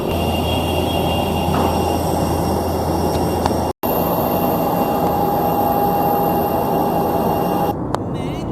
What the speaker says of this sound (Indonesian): Kita pakai pesawat Air India.